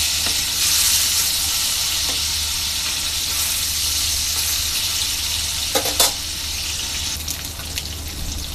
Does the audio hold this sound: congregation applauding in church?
no